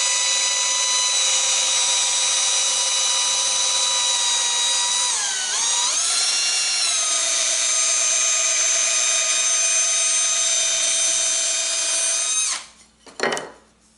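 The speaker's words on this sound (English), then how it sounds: "But I'm just going to run my drill bit, or run it as a drill, with my drill," A power drill whines steadily at high speed for several seconds, its pitch dipping briefly under load, then it cuts off with a short clatter at the end.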